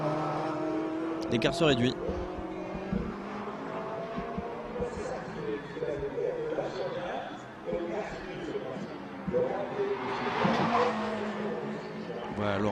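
Ferrari GT race car of the CMR by Sport Garage team at Nogaro during an FFSA GT 2016 race, engine droning and passing at moderate distance while a commentator talks over it.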